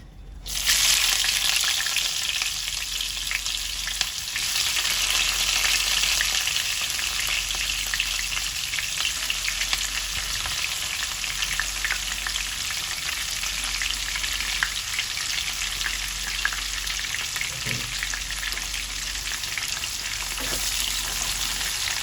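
Chopped onions fry in hot oil with bay leaves for a mutton and potato curry, giving a loud, continuous close-up sizzle with occasional faint stirring sounds throughout.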